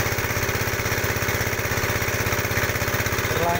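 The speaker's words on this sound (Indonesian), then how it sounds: "Pengeboran sudah mencapai di 42 meter." A well-drilling machine boring through rock runs with a steady, pulsing engine chug and rapid rhythmic knocking, close and continuous throughout.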